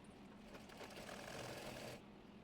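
A sewing machine stitches the body of a baby top made from leftover fabric scraps, giving one steady whirring run of fast needle chatter that stops abruptly near the end. No one speaks.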